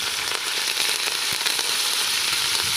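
Curry leaves sizzling in a pan of fried onions for a Nellore-style fish curry, a dense steady crackle with sharp pops throughout, close and loud, no voices.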